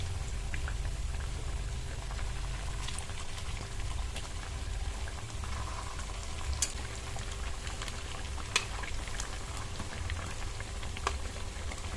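Suji kachori deep-fry in hot oil with a soft, steady bubbling sizzle and occasional faint pops, quiet and continuous without any talking.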